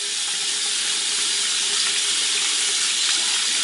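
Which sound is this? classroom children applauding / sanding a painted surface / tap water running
tap water running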